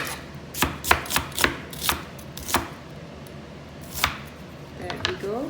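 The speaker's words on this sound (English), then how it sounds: "cut the onion very finely into small pieces, not too thin, not too thick." A knife finely chopping an onion on a board for onion bhaji, with a quick run of sharp, close cuts, a pause, then a few more chops and a light scraping at the end.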